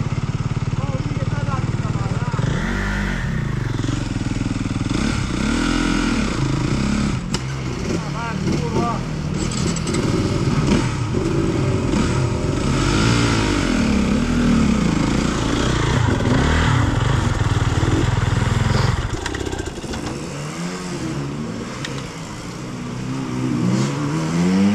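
Enduro motorcycles ride a trail near Candelara, Messina, their engines revving and droning loudly and continuously, rising and falling as riders talk over the noise.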